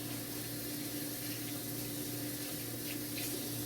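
A kitchen tap runs steadily for hand washing, a constant close rush of water with no pauses and no voices.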